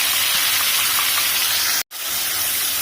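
Onion paste hitting hot oil that already holds ginger-garlic paste, while cooking chicken Jahangiri: a loud, steady, hissing sizzle like spraying water, broken by one abrupt instant of silence.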